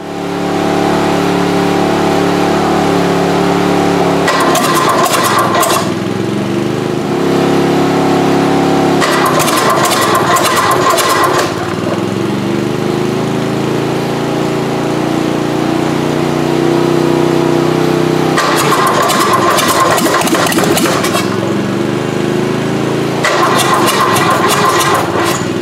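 A tractor-pulling engine being started and left running, a steady rough mid-pitched idle broken by several short bursts of harsher, louder revving, close and continuous, with no talking.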